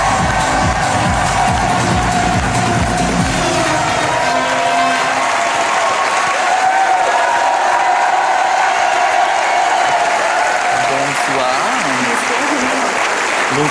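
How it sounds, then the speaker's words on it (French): A large television talk-show studio audience applauds loudly and steadily throughout, with some cheering mixed into the sustained clapping. "Vous pouvez applaudir"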